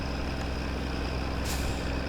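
A lorry in the My Summer Car video game rumbles with a steady heavy engine drone, and a sharp hiss of air brakes cuts in near the end, loud and close.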